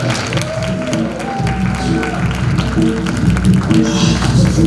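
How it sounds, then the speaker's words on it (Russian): Theatre audience applauding at an annual young actors' award ceremony as a prize is handed over, steady clapping layered over background music, with some voices mixed in. "Под ваши аплодисменты, конечно."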